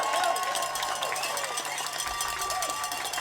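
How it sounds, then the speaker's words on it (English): Crowd applause and clapping at a rugby championship rally for the New England Free Jacks, a dense patter of many hands at moderate distance with scattered cheers. "So a round of applause."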